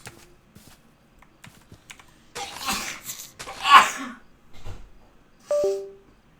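One sharp sneeze bursts out over the quiet clicking of a computer keyboard during Minecraft play, close and clear, followed by a short voice.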